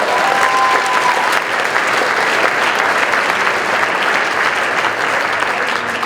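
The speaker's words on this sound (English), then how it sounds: "Give her a warm round of applause" Loud, sustained applause from a school audience at an academic awards ceremony for an honoured recipient, a thick continuous wash of many hands clapping throughout.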